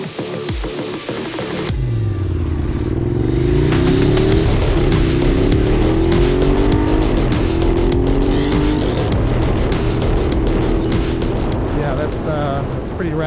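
Ducati Scrambler Desert Sled motorcycle engine revving hard at about half throttle, a loud, steady roar with rising pitch sweeps as it accelerates through gears, close and continuous after a quiet start.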